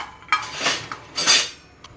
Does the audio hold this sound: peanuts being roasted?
yes